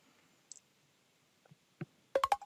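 A few quiet, close mouse clicks land sparsely and then bunch into a quick cluster near the end, with no talk over them, as an enable audio button is clicked on screen.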